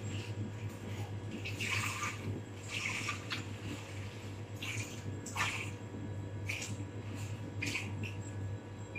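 Water pours steadily into a container for a glucose glaze, a continuous splashing flow with a few brighter splashing bursts, fairly quiet and close.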